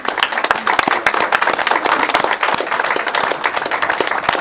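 Crowd applause in a city council meeting room for firefighters being honored, dense, lively clapping from many hands, close and sustained without pause for a few seconds.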